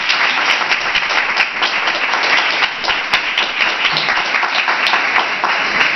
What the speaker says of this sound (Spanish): Quiero que le dé un fuerte aplauso a David,